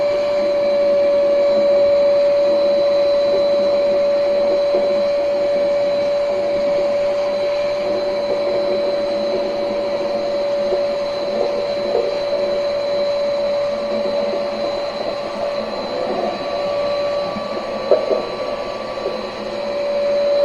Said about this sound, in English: I got the vacuum out here. I'm going to vacuum this out